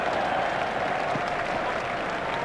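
Cricket crowd at an India vs Australia match in Bombay applauding in a standing ovation for a batsman's half century; dense, steady clapping and crowd noise throughout, loud and continuous.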